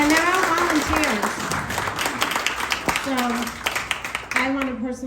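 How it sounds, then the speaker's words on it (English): A room of people applauds volunteer leaders, the steady clapping running under a voice that talks throughout. "give them a round of applause"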